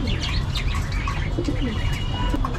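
Pigeons cooing close by in a bird market setting, soft repeated coos mixed with chirps and brief wing flaps, steady and lively throughout.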